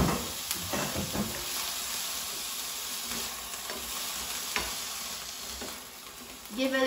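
Chickpeas frying in a pan with garlic while being stirred, a steady soft sizzle with scraping spoon strokes, close and moderately quiet, no talking.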